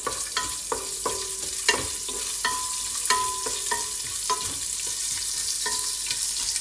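Onion fries in oil with panch phoron spices for khichdi, a bright crackling sizzle with repeated scraping stirs and clinks at an uneven pace, close and steady with no voices.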